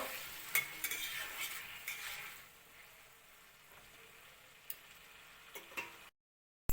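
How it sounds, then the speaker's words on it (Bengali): Potatoes fry in hot oil with a little salt and turmeric, stirred with a utensil in a pan: a steady soft sizzle with scraping strokes, louder at first and then quieter, with a few clicks of the spoon near the end. "আলুটা লাল লাল করে ভাজা হয়ে গেছে"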